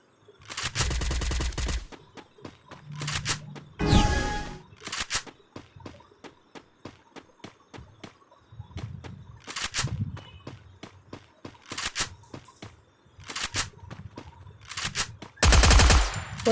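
A P90 gun fires in a shooting video game in repeated short, loud bursts of rapid shots, separated by quieter gaps with footsteps and small clicks.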